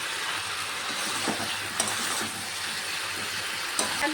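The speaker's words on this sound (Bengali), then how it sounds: "এখন মশলার সঙ্গে কিছুক্ষণ রান্না করে নেব।" Fried cauliflower and potato cooking with spices in a pan give a continuous close hiss of sizzling oil, broken by a couple of brief spatula scrapes, without any talk.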